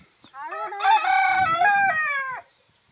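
A rooster crows once, loud and close, in a long ringing call, with a low scratchy rustle underneath.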